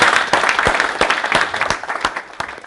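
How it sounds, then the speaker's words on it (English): An audience at a tech meetup applauds its panel speakers, a loud, close burst of many hands clapping with some sharper individual claps standing out, continuing for the whole moment. "So a final thank you and round of applause for our speakers."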